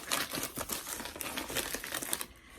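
Crinkling and tearing of a resealable jewelry rental subscription envelope being opened up close, with dense papery rustles and crackles filling the short moment without any talk.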